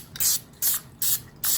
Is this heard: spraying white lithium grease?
yes